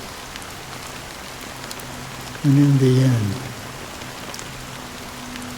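Steady rain falling in the Honkai Star Rail game world, a constant soft hiss throughout, while a voice speaks briefly in the middle.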